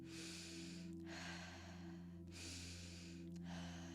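Quick, rhythmic breathwork breaths, three audible pulses over a steady low hum, close to the listener.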